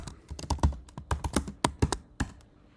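Rapid clicking keystrokes on a computer keyboard, an uneven burst of close, crisp taps with no talking.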